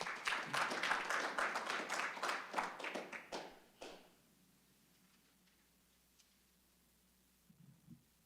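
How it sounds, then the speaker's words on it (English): Audience applause for a speaker at a community conversations event, a burst of clapping that fades out after about four seconds, leaving quiet room tone with a faint murmur near the end. "Give him a round of applause."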